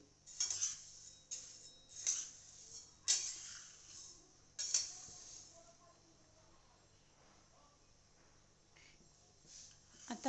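Coriander seeds dry-roasting in a thick pan, stirred with a utensil: a series of sharp scraping, clinking strokes in bursts over the first five seconds, then a quieter rustling stretch with a few more scrapes near the end.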